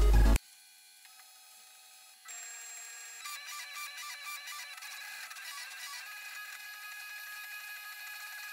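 A freshly assembled 3D printer runs close by, its stepper motors giving off shifting tonal whines and quick rhythmic pulses that change pitch as it moves.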